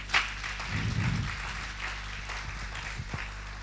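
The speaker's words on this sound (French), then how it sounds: "Madame Pascaline, sous vos applaudissements" Moderately quiet applause from an audience at a women's eloquence contest in Lubumbashi, steady clapping with a few louder close claps and low rumbling handling or room noise underneath.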